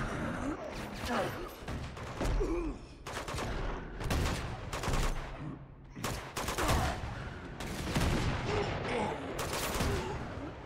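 Rapid bursts of gunfire from Uncharted 2: Among Thieves crackle through a firefight in Shambhala, with repeated sharp volleys and thuds at a steady loud level while a voice calls out over the shooting.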